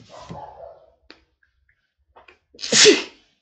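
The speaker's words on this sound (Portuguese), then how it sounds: "Perdão, o senhor espirrou." A single loud, close sneeze bursts out near the end of a quiet stretch of a school lesson, following a brief low murmur and a few small clicks.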